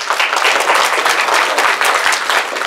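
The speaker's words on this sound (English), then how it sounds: "Guys, give him a round of applause." Dense, loud audience applause fills the room continuously, many hands clapping at close range for nearly three seconds without a break.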